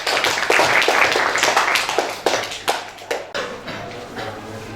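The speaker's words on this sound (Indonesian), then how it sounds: "Tepuk tangan untuk kelompok 1" A classroom group claps for a presenting team, a dense flurry of close handclaps that thins into scattered individual claps before fading into room noise.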